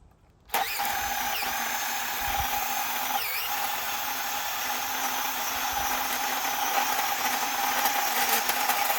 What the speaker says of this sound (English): Drilling just as deep as that auger bit can go